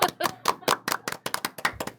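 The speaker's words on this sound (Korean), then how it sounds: "지금 박수. 아 박수." A small group claps in a studio, sharp, quick hand claps coming in an uneven rapid patter, close and fairly quiet, with no talk over them.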